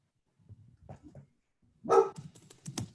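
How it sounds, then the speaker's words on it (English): A dog in a home setting gives a few soft, muffled woofs and then one louder, sharper bark followed by quicker yips. The barks come in short bursts against a quiet background, with no talk. "The dog."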